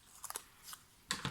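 Scissors snipping paper for a scrapbook project, a few quick close cuts: a short cluster of crisp snips, a pause, then two more sharp clips.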